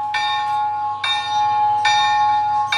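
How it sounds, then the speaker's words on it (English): A bell rings slowly. About four bright strikes land roughly a second apart, each ringing on into the next at a steady moderate loudness, with no voices. "The first one said, ring me slow,"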